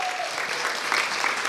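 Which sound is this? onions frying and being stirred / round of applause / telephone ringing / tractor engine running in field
round of applause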